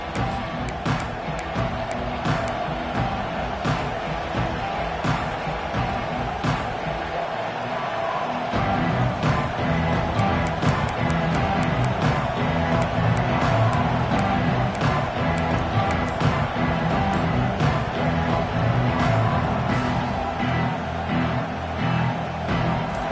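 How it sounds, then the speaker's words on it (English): A packed football stadium crowd at an Ohio State versus Michigan game roars as a loud, continuous wash of noise that swells noticeably after the first few seconds and stays heavy to the end. "This crowd ready to make its presence known."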